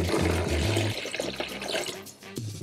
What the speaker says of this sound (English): I'm going to take the dirty, or in my case, salty water, and pour into this bucket.